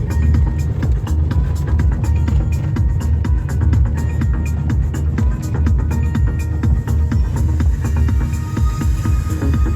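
Car engine running steadily with a child driving, a constant low throbbing drone held at an even level throughout, close and continuous.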